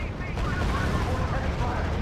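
Dense, continuous gunfire from in-game units in the wartime strategy game R.U.S.E., a rumbling rattle of overlapping shots with a battlefield roar, loud and unbroken, with a voice speaking over it.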